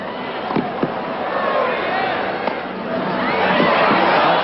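Tennis crowd at the 1995 US Open men's third round clapping and cheering a fine effort, a swelling wash of applause under a commentator's voice.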